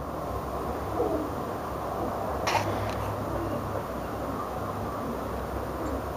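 Pigeons coo softly inside a 1928 pigeonnaire, low muffled calls barely rising above a steady background hiss.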